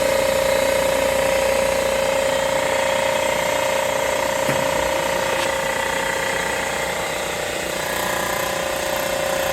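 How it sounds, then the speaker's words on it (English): A milling machine cutting down a weld on a cylinder head, a steady droning whine with a constant tone and a couple of faint clicks, running alone throughout. "head up on the milling machine, and he's getting ready to chop the weld down and surface her up"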